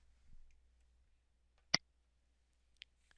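Two sharp, isolated computer mouse clicks, the first louder and the second fainter over a second later, sound close in a quiet room while settings are confirmed in Vegas Video editing software.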